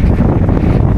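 Strong wind buffeting a microphone in Mombasa, Kenya, a loud continuous low rumble with no voices.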